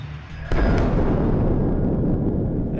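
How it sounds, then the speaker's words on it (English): A ghost explodes in the video game Worse Than Death: one sudden loud blast about half a second in, followed by a heavy, rumbling roar that lingers and slowly fades. "An explosion was not what I expected, honestly. An exploding ghost, hey?"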